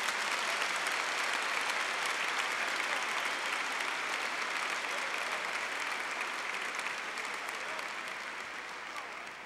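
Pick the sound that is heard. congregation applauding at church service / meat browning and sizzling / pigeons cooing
congregation applauding at church service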